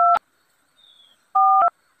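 Telephone keypad tones as a number is dialed, two short dual-tone beeps separated by a brief pause, clear and close.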